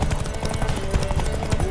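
Rapid, steady hoofbeats of a galloping horse in The Witcher 3: Wild Hunt pound close by, a continuous drumming rhythm with no talking.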